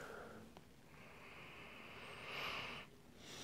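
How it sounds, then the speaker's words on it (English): Close, airy sniffs and a long inhale at the rim of a glass of dark pumpkin beer, soft breathy hissing against a faint background hum. "Let's give it a few sniffs here."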